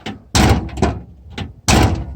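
A Mitsubishi Delica rear hatch door is pushed shut and latches, giving two loud, close solid thunks with a short rattle between them and no voices.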